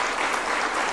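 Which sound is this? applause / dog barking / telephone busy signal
applause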